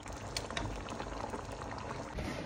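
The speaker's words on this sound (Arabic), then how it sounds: "الروز غادي نحيه ان شاء الله ونديرو يقطر من الماء كامل تماما" Water draining from cooked rice, a steady close rushing and splashing pour with no talking.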